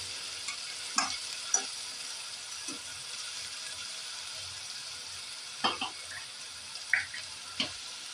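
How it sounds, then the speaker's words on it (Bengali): Chole masala fries in oil in a pan with a soft, steady sizzle, broken by a few scattered stirring clicks and scrapes, quiet and close. "গোল্ডেন কালার হবে, ততক্ষণ আমি এটাকে একটুখানি ভাজতে থাকবো।"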